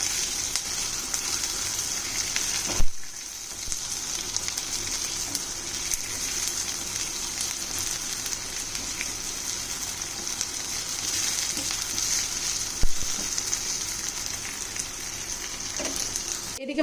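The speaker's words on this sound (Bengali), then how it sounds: "এদিকে মশলাটা ভাজা বসিয়ে আমি ডিমটা তুলে নিচ্ছি।" Spice masala with cashews and raisins frying in a pan, a steady crackling sizzle heard close up, with a couple of brief stirring knocks, and no talk.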